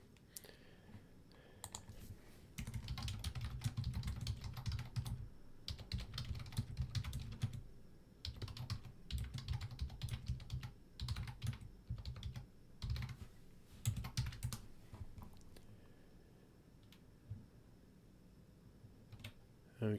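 Bursts of computer keyboard typing while notes are written during a data mining workshop, clicking in uneven runs with pauses, fairly close, with a faint low hum underneath.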